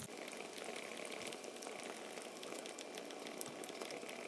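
Fish added to a simmering pan of curry, giving a soft, steady bubbling and sizzling with faint crackles throughout. Quiet and continuous, with no voices.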